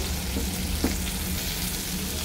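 Steady, close sizzling of five-spice seeds frying in oil with turmeric and salt fills the whole stretch, with only a faint scrape or two from stirring.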